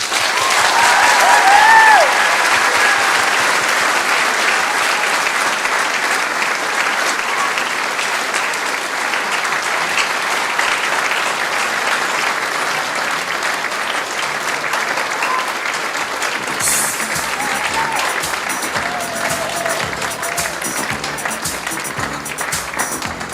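A large audience at a fashion showcase applauds the models with dense, sustained clapping. The applause stays loud and even throughout and carries a few faint cheers.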